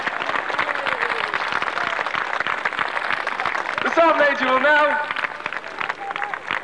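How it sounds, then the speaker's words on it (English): Carnival crowd at an outdoor display applauds steadily throughout, with a voice announcing over the clapping and a brief burst of tonal sound partway through. "Let's have a big round of applause."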